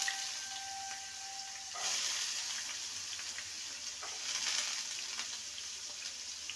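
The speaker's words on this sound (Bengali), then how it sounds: "গাজরটাকে প্রথমে ভেজে নেব।" Chopped carrots fry in a pan with a soft, steady hiss and gentle crackle, fairly faint and close, swelling slightly in two stretches with no voices.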